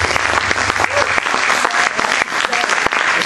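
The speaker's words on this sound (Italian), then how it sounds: "Perciò un applauso a Simona, la mia fidanzata meravigliosa." An audience applauds at a jazz quartet concert, dense sustained clapping filling the room, loud and close throughout.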